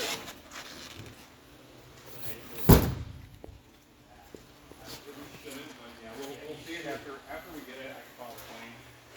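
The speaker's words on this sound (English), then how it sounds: "And this one goes through, and that door also opens up" A 2001 Winnebago Adventurer RV exterior compartment door gives one sharp, loud thump partway through, with quieter handling rattles around it and someone talking in the foreground.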